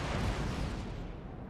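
Booming artillery fire in a Total War battle set in the Thirty Years' War, a single loud rumbling blast that fades out over about a second and a half, with no talk.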